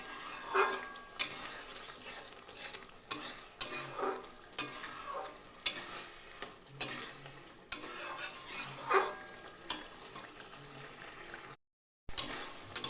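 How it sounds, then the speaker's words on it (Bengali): Pickle simmering in a pan while being stirred, a soft bubbling sizzle broken by repeated scraping clinks of a spoon against the pan at a steady, unhurried rhythm, close and fairly quiet. "আর একটু ফুটিয়ে নেবো ভালো করে, একটু শুকিয়ে নেবো।"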